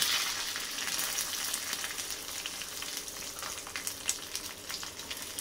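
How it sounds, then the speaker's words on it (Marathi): Continuous hot-oil crackle with sharp popping bursts scattered through it, as mustard seeds splutter in a pan during tempering; no voices. "फोडणी छान अशी तडतडू द्यायची"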